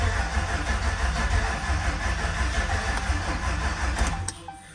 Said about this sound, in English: Ooh, we got crankage.